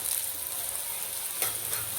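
Capsicum fries in a pan with chili powder and turmeric, a continuous close sizzle with a brief stirring scrape partway through, no voices.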